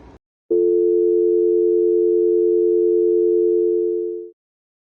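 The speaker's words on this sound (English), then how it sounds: "when you pick up the phone, you get a dial tone" A single steady telephone dial tone hums loudly and evenly for several seconds after a brief click, then cuts off.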